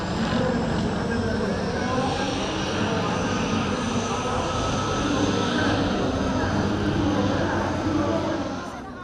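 A Sukhoi Su-31 aerobatic plane roars at an airshow in Romania, its engine a loud, continuous drone with propeller buzz that holds steady before easing slightly at the end, with a voice talking over it.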